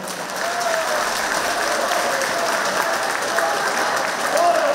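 A gathering of pensioners from Banja Luka and Borovo applauds warmly, with a sustained, dense clapping from a large crowd close by and a few voices calling out over it.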